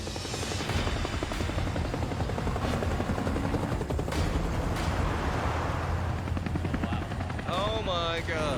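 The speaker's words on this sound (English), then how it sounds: "see come two bloody helicopters and two trucks just driving and flying towards us" Two helicopters' rotors thump steadily and loudly throughout, with engine roar and a whine rising near the end as they approach.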